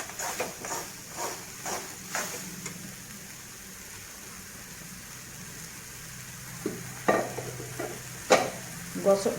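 Masala sizzles and fries in a pan for egg gravy, with rhythmic stirring scrapes early on and a few louder clinks and stirs near the end, a soft hiss throughout.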